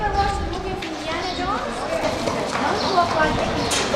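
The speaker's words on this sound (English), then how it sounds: "the number of horses and carriages coming through are quite numerous." Hooves clip-clop on hard ground as horses and carriages pass nearby in Israel, mixed with a busy crowd murmur and people talking.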